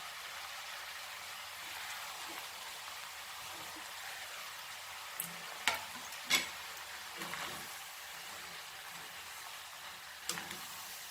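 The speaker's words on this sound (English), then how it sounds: "Now I will add my tomatoes and chilies to it" Tomatoes and chilies cooking in Goan beef keema: a steady, rain-like sizzle of frying throughout, broken by a few close spoon clinks and stirring scrapes against the pan.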